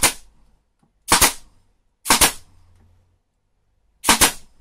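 A nail gun fires nails into the frame of a beeswax foundation mill with honeycomb rollers. Four loud, sharp metallic bangs come close by at roughly one-second intervals, each with a brief ringing tail, and no voices.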